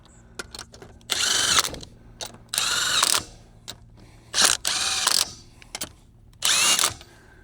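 Power tool driving lug nuts onto a Can-Am Commander wheel in a star pattern, loud repeated bursts of whirring and ratcheting hammering, five separate runs of a second or so each with quiet gaps between, close up.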